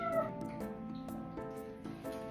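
A very young kitten meows repeatedly and close by, giving a run of short high-pitched cries in quick succession with only brief gaps between them.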